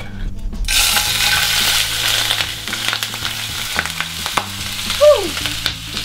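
Pork frying in plenty of oil in an Instant Pot, a loud continuous sizzle and crackle with scattered pops and splatters, heard close up with no talking.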